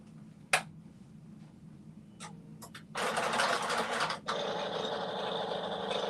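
After a few sharp clicks, a sewing machine starts stitching and runs steadily for the last few seconds, close and moderately loud, with a brief change in speed partway through.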